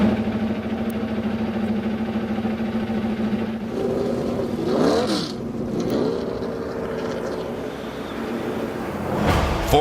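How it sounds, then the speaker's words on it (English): Indy Lights race cars at the 2008 SunRichGourmet.com 100 fire up on the grid, a steady mechanical drone giving way to rising revs and sweeping engine bursts from several cars. "Drivers, start your engines."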